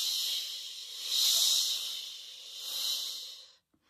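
A drawn-out, hissing 'shh' from a person imitates the wind. The bright, breathy rush swells and eases in two gentle surges over several seconds, then stops abruptly.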